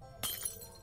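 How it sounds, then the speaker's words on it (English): Glass shatters in the point-and-click game Milo and the Christmas Gift, one sharp crash followed by a short tinkling scatter of shards, heard alone. "I can break the glass."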